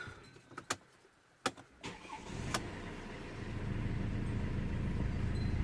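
After a few clicks and clunks, a Mercedes W212 sedan's engine starts and settles into a quiet, steady idle, heard from close by.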